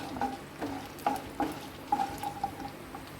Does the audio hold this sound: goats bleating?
no